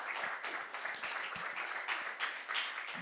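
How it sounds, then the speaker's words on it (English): A summer camp audience claps together, a dense and fairly distant patter of many hands with steady repeated beats over a few seconds. "Let's clap to Jesus for that."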